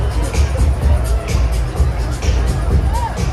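A crowd dancing to a DJ at the Chicago House Music Festival in Millennium Park, Chicago, heard as dense outdoor babble and chatter over a low thumping bass beat, with a voice talking close by.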